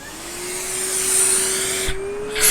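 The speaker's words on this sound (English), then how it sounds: "Let's get the vacuum cleaner on in a second and just see what we're looking at." Hoover Junior Dirtsearcher upright vacuum cleaner running during a refurbishment, a loud steady motor whine with slowly rising pitch and a roaring airflow rush, close and continuous.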